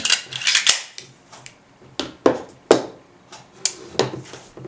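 Metallic clicks and clacks from Springfield XD and 1911 pistol magazine releases being pressed and magazines seated, a series of sharp, close snaps at irregular intervals.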